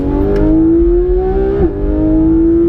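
A Porsche 991 GT3 RS engine revs up with a steady, rising tone and a brief dip midway before climbing again, loud and close throughout with no voices.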